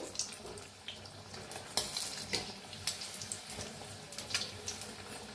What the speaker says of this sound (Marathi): अंड्याला फिरवून घेऊया आपण, दोन्ही साईडने छान तळून घेऊया।